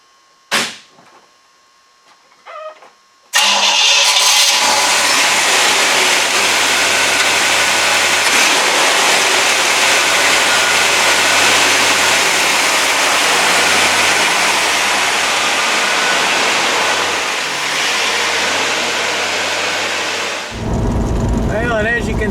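A 1965 Corvette L79 V8 engine is cranked and fires for the first time after installation, catching with a sudden loud roar that settles into a steady, powerful running rumble before cutting off near the end.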